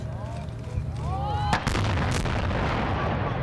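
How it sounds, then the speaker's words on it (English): A large fuel-air explosion set off as a film special effect on the set of the 2005 movie Stealth, with a sudden loud boom and a sustained roaring rumble that drowns out the faint whistling tones heard just before it. "We had a fuel air explosion."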